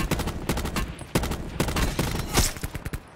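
Rapid bursts of gunfire from Call of Duty Blackout duos, loud and close, with sharp repeated cracks across the whole stretch that thin into scattered shots at the end.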